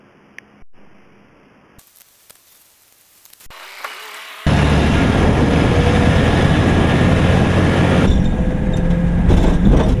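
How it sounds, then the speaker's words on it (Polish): A VW LT28 van's engine starts up after faint rustling and clicks, then runs as a loud, steady, close-up roar that continues to the end. "Silniki w tych samochodach są bardzo głośne"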